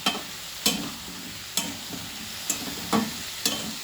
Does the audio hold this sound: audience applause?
no